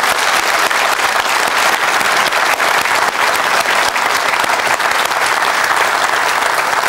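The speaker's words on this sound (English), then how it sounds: "Well, you deserve a round of applause." A studio audience at a late-night Irish television talk show breaks into loud, sustained applause, a dense wash of clapping that runs steadily throughout with no talk over it.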